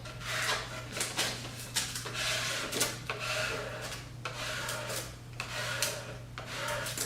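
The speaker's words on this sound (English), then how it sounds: "now we can take and squeegee our vinyl down onto our table" Oracal 651 vinyl being squeegeed down onto a tabletop: repeated close rubbing and scraping strokes in an uneven rhythm, each swipe a brief rasping burst over a steady low hum, with no voices.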